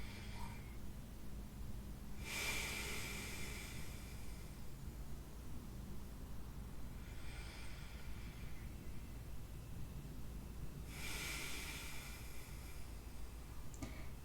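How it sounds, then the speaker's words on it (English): Deep, airy breaths taken during a yoga session, two clear long breath swells several seconds apart with a fainter one between, over a steady background hiss and low hum, no voices. "Three more breaths here."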